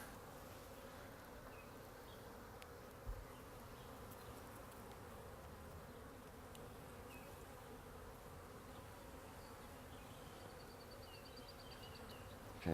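Honey bees buzz in a dense, continuous hum as a beekeeper shakes them from frames into hive boxes during a hive split, the swarm drone soft and steady with a brief knock near the start and end.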